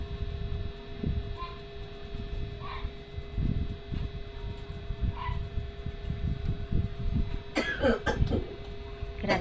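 A nearby person coughs in short bursts several times over a steady mains hum in a quiet room, with one louder, harsher coughing fit toward the end.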